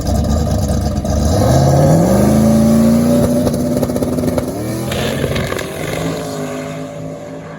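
Big block Camaro drag car on leaf springs making a pass, its engine howling loudly as it launches and climbs through the revs, holding a strong roar before fading as it pulls away.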